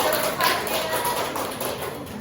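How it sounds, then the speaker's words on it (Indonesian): Steady, dense applause from a group of adults cheering Team A at a school teachers' training session, filling the whole stretch at an even level with no pauses. "tepuk tangan untuk tim A ya"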